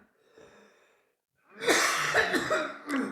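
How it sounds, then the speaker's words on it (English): A person coughs close by: a faint breathy sound first, then a brief pause, then a harsh, loud burst of several rough coughs. "I cough my ass off because it's bad air quality right now"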